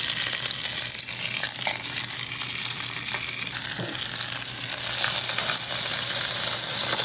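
A steak sizzles and fries steadily in a hot pan, a continuous close hissing crackle with faint stirring, no voices.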